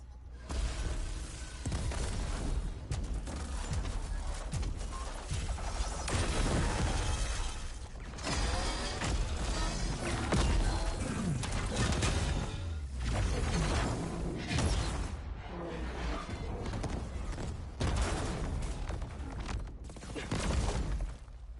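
A base printer in the game Horizon Forbidden West turns out machines, a dense and continuous wash of mechanical clanks, ratcheting and shattering crashes with whooshes, loud and busy throughout.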